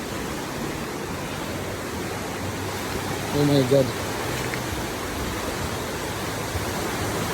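Strong rushing river water floods across a farm, a loud steady broadband roar that fills the whole scene, with a brief excited voice cutting in near the middle.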